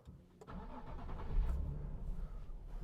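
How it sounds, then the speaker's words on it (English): 2014 Nissan 370Z GT with a 3.7 V6 started by push-button keyless go, a short starter crank and then the engine catching into a strong, rumbling idle that holds steady. "And this engine, the sound is absolutely awesome."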